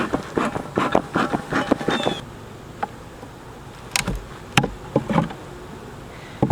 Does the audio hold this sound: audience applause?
no